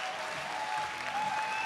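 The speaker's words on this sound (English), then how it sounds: "Give them a huge round of applause." A crowd claps for female riders at a flatland BMX final, a dense burst of applause at moderate distance that cuts off abruptly at the end.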